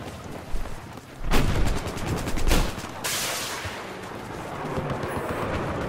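Rapid automatic gunfire and heavy blasts in the video game Battlefield 4, loud bursts of shots clustered in the first few seconds, followed by a steady rumbling battlefield backdrop.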